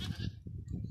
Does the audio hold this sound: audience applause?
no